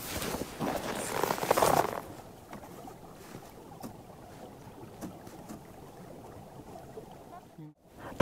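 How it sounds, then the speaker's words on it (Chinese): Water flowing beneath roughly half a metre of river ice in a snowy Chinese village, recorded through a microphone, gives a low, steady, muffled rush after a brief burst of handling and wind noise. "太神奇了，它这个水就在我们脚下流"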